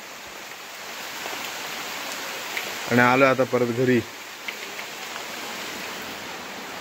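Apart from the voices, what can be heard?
rain falling outdoors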